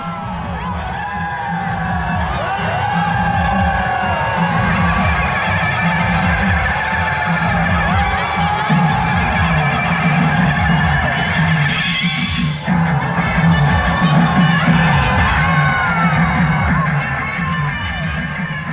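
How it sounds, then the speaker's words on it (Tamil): Dense crowd of devotees at the Madurai Chithirai festival, cheering as the Kallalagar deity on a golden horse mount passes; a loud, continuous roar of voices with shouts and whoops that holds steady throughout. "மக்கள் வெள்ளத்தில் தங்க குதிரை வாகனத்தில் அருள்மிகு ஸ்ரீ கள்ளழகர் மிதந்து வந்துகிட்டு இருக்காரு"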